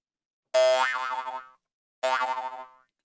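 Two twangy, wobbling boings from a jaw harp ring out one after another, each resonating briefly and then fading, clear and alone against silence.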